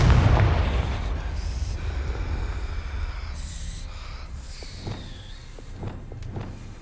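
A Confringo blasting spell goes off in Hogwarts Legacy: a deep boom that fades into a rumbling tail, followed by scattered small pops and crackles.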